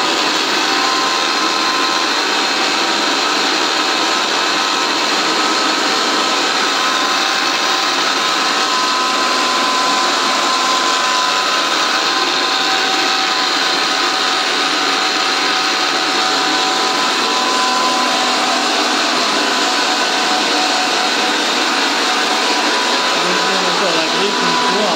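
A kitchen mixer grinder runs steadily, grinding moringa leaves into powder, a loud, continuous whirring motor drone close by that lasts the whole time without a break.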